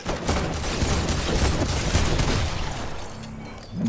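Bursts of rapid gunfire in the game Fortnite, chapter 1 season 6, with dense overlapping shots and booming low thuds that stay loud and steady before easing off near the end.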